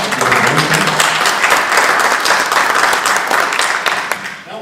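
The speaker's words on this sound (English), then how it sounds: "Let's give Jeff a round of applause." An audience at a 2014 Mills County Republican candidate forum applauds Jeff Tomkowitz, representative of Governor Terry Branstad, with steady, dense clapping that holds for several seconds before tapering slightly at the end.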